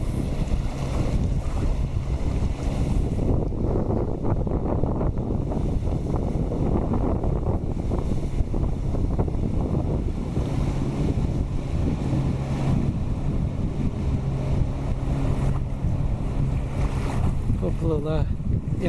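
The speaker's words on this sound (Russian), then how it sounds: "Вон моторка плывет." A motorboat on a river drones as a steady, low engine rumble that is mixed with strong wind buffeting the microphone and lapping water, and it continues for the whole stretch.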